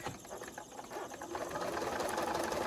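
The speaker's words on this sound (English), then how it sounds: "And I'm going to sew, let me just fix it." A sewing machine stitches fabric for a double wedding ring quilt with a fast, even mechanical whir that starts softly and then runs steadily at full speed, close and fairly quiet, with no talk.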